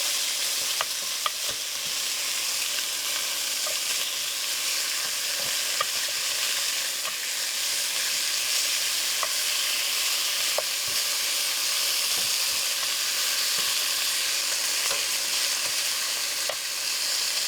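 Short ribs searing in a Dutch oven, a dense, steady sizzle held for the whole stretch, punctuated by faint spits and pops, loud and close with no talking.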